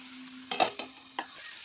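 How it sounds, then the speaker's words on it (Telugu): Curry leaf chicken fry stirred in a pan: a few scraping, sizzling strokes of the spoon over a low steady hum, with two or three louder scrapes close by and no talking. "ఇప్పుడు మొత్తం మిక్స్ చేద్దాం, ముక్కలకి బాగా పట్టిద్ది"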